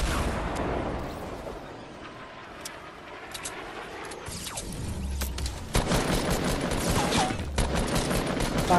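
Gunfire in the video game Fortnite, a rattling fusillade of shots with bursts and booms, louder toward the end, set against busy game ambience.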